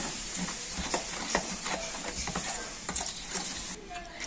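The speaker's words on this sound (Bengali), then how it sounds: "জল দিয়ে বেসনটাকে একটুখানি গুলে নেব।" Gram flour (besan) being whisked with salt and water in a bowl, a soft, steady scraping and tapping stir with irregular clicks, fairly close and moderately quiet.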